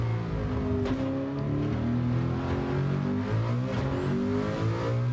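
A tuned Nissan Skyline R34 GT-R making about 987 bhp in Gran Turismo 7 drones steadily at high revs, its harmonic engine note rising and dipping with gear changes, loud and continuous with no talk.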